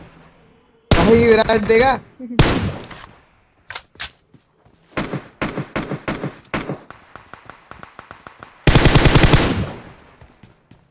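Video game gunfire in Boom Baam Rush, played on an iQOO Z3 phone: rapid automatic bursts and single sharp shots in loud clusters with brief gaps, a voice speaking briefly between volleys.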